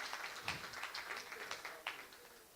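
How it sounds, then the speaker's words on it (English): Audience at a University of Edinburgh climate enterprise industry conference panel clapping for a speaker, a quick patter of many hands heard from a distance, fairly faint and steady throughout. "Can we have another round of applause for Priyash Ramadin?"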